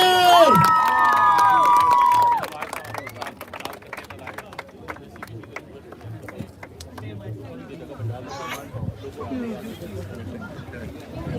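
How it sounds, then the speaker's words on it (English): Crowd at a community barbecue cheering and applauding for Ontario Premier Doug Ford, a loud burst with shouts and a whistle at first, then settling into scattered clapping, chatter and children's voices. "Big round of applause for our Premier."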